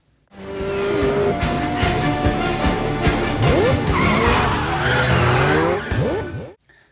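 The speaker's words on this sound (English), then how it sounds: "Shaw makes a full U-turn around a stationary double-decker bus driving a McLaren 720S." A McLaren 720S skids through a full U-turn around a stationary double-decker bus, its tires squealing in long rising and falling wails over a loud, steady engine roar that carries on for about six seconds before cutting off.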